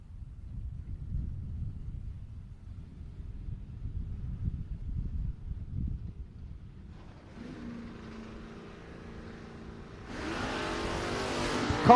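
Drag race car at a Coastal Clash event, a low engine rumble building into a louder, brighter launch and run toward the end, loud and close with no talk.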